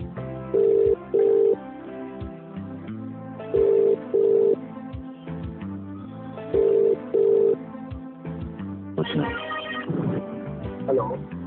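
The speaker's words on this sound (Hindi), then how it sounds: "मैं उनको फोन लगाने वाला हूँ" Several short pairs of bright electronic tones repeat at intervals over a low music bed, then a brief phone ring burst near the end.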